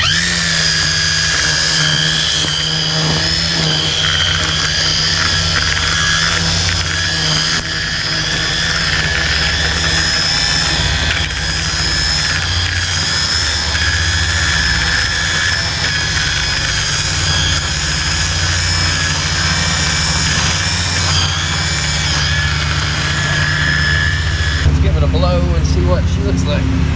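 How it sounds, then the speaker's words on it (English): A Milwaukee M18 FUEL dual-battery leaf blower runs steadily and loud, holding a high whining roar with a low hum beneath it; it surges briefly near the end and a voice talks over it. "So we have the big double barrel M18 Milwaukee fuel leaf blower."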